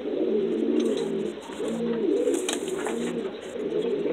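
Breeding pigeons of the Cuban criollo type cooing in a loft, close and steady, with several overlapping soft, rolling coos and faint higher chirps above them.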